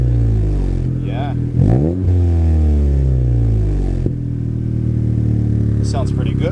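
A 2018 Honda Civic Si with an Invidia R400 exhaust revving loudly nearby, the engine note climbing and falling in several sweeping pulls with a deep tone, then settling back to idle, while people talk faintly.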